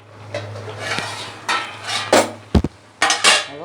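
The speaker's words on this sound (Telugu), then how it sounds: "ఇప్పుడు మూత తీస్తున్నానండి." A metal pot lid clanks and scrapes as it is lifted off a pot of cooking spinach and tomato curry, with a few sharp clatters and a steady low hum behind.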